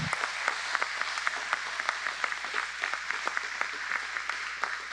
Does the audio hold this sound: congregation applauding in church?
yes